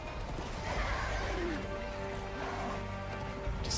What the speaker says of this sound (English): We got the horse there.